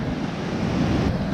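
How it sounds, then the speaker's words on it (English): Big ocean waves breaking at Black's Beach, California, a steady, loud, broad wash of surf with wind noise, continuous and without voices. "Waves are pretty big actually."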